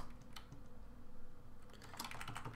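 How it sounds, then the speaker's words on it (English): Keys clack on a computer keyboard while code is typed, scattered quiet taps that thicken into a quicker burst near the end, close and faint over low room hum. "we can just start typing and start writing our code"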